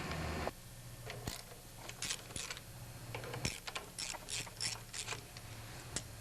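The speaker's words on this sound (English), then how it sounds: "we're going to need an E6 or E5 E-Torx, and we're going to remove both studs here" Ratchet and socket clicks while E-Torx studs are removed from the fuel pump of a 10 HP Briggs engine on a wood chipper shredder, quiet irregular metallic ticks and short ratcheting bursts close by.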